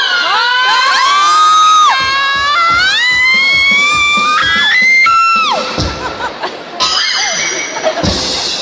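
Crowd at a shopping mall concert shouting and cheering loudly, with whoops over amplified music and singing, and a rhythmic beat underneath.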